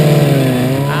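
Historic Formula Ford race cars at Brands Hatch at the start of a race, heard on board: a loud, steady engine drone that rises slightly in pitch toward the end.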